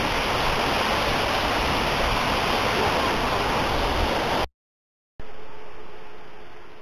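Steady, loud rushing roar of a waterfall at Srambang Park in Ngawi fills the first few seconds, cuts out briefly, then returns softer and more distant, fading slowly.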